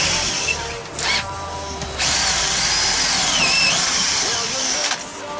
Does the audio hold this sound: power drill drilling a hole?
yes